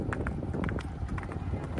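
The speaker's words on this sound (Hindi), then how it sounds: "घोड़ी की अपनी रफ्तार पकड़ ली है" A mare runs along an open road, her hoofbeats coming as a steady, fast rhythm of repeated thuds over constant wind noise, close and fairly loud with no talk.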